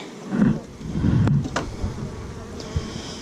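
Honeybees buzz around an open hive during a beekeeping inspection, a close, loud hum that swells and fades as single bees fly past, with a couple of faint knocks and no speech.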